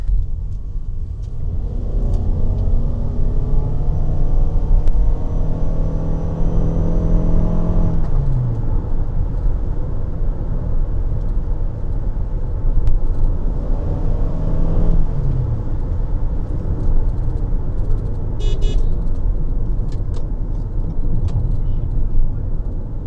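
Steady low road rumble and tyre noise inside a 2019 Toyota RAV4 Hybrid cabin while driving, with engine tones rising and falling twice as it accelerates; a continuous, moderately loud hum with no talking.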